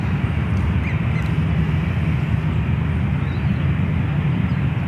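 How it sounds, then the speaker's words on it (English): An Aer Lingus Airbus A330 rumbles as it arrives on runway 28 right at San Francisco International Airport, a loud, broad, steady roar of jet engines that fills the whole stretch without a break. "Air Lingus A330, next arrival on 28 right."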